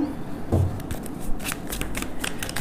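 A deck of angel oracle cards is shuffled by hand in a short run of quick papery riffles and flicks, close and fairly crisp, with no talking.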